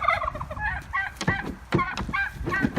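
Several turkeys gobble in overlapping, warbling bursts, close and loud, with rapid rhythmic calls repeating throughout.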